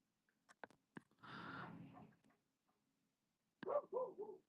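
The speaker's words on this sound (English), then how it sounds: "They're barking." A dog barks in short separate bursts, a couple of sharp yips then a cluster of barks after a quiet pause, somewhat distant.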